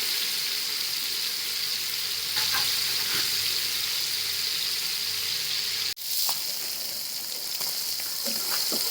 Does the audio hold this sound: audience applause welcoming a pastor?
no